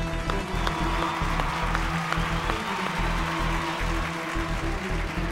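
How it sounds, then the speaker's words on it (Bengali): Studio audience of a Bengali TV quiz show applauding contestants, a sustained even wash of clapping from many hands, with a low hum beneath. "সবার জন্য একটা হাততালি হোক"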